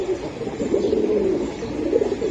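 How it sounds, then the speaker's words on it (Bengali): Pigeons coo in a continuous, rolling murmur close by, several birds overlapping steadily throughout. "অনেক সুন্দর কবুতর"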